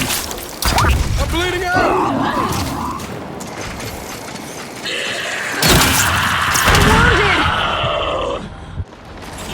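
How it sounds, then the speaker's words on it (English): A frag grenade thrown and exploding during Gears of War 5 combat, a loud crashing blast with debris and gunfire-like bursts in the middle, heard among shouted character dialogue and grunts. "Throwing frag! Frag out!"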